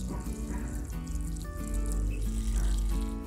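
Ten litres of water poured slowly and steadily from a watering can onto a hydrangea bush in a garden, a continuous close splashing stream with no talking.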